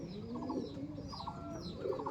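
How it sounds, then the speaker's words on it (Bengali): Giribaj high-flying pigeons cooing in a loft, soft repeated throaty coos in short phrases, close and fairly quiet over a low background murmur. "এই হচ্ছে আমাদের বারিকদার গিরিবাজ পায়রা"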